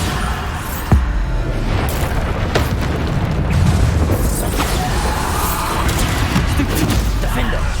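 Bombarda explosion spell in the video game Hogwarts Legacy, a sharp blast near the start followed by a continuous loud rumble of combat booms and bursts, close and dense throughout.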